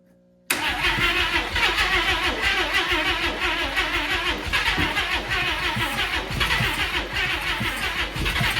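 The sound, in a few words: Chevrolet Tri Five car engine running after sitting 37 years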